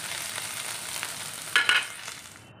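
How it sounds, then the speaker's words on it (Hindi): Tendli, or ivy gourd, roasts in oil in a kadhai over a low flame: a steady, moderate sizzle with a couple of brief stirring scrapes, fading toward the end. "गैस को हम बिल्कुल धीमी आँच पे रखना है और इस टेंडली को हम भून लेंगे"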